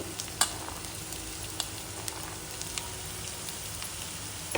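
Onion, green chillies and carrot fry in a pan, a soft steady crackling sizzle with occasional light stirring taps.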